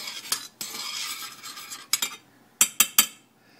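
A utensil stirs and scrapes a cooling coconut oil mixture for sea buckthorn skin cream in a bowl, a close rubbing swirl followed by several sharp taps against the rim, with no voices.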